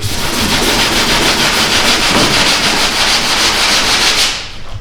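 Steady, loud rasping of coarse 80-grit sandpaper scrubbed back and forth across a surface, continuous for several seconds before stopping abruptly near the end.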